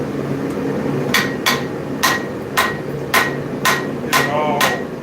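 A hammer strikes a steel eye punch on an anvil during forging, about eight sharp ringing metallic blows spaced roughly half a second apart, loud and close over a low background hum.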